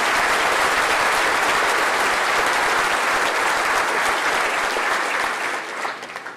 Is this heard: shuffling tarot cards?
no